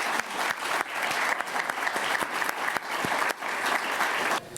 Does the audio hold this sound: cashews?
no